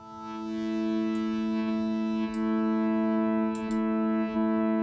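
A sustained ImpOSCar 3 synthesizer tone drones steadily with a wide reverberant wash, punctuated by a few soft clicks.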